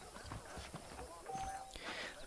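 In Red Dead Redemption, a saddled horse's hooves clip-clop in a quick, uneven rhythm of soft thuds at moderate level, sounding close. Ambient game noise sits underneath.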